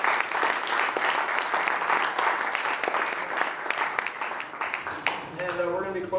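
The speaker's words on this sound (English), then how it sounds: "if we could, we get a round of applause for Dennis Carroll for being a great coach." A jazz concert audience breaks into steady applause, a dense clapping wash for several seconds that thins near the end as a voice begins speaking.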